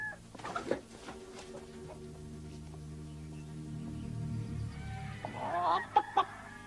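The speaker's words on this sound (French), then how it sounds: "Allez, foutu coq, tu paies rien pour attendre." A rooster crows in a long drawn-out call, followed by shorter clucking bursts near the end. The bird sounds fairly close, and no one talks over it.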